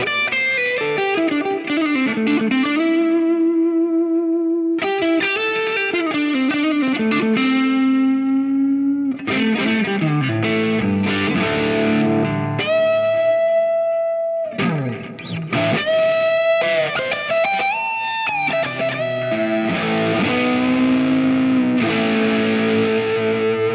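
An electric guitar, distorted and run through delay and reverb effects, plays sustained notes and phrases that bloom and echo, with repeats trailing after each phrase and brief gaps between passages, loud and alone without talk.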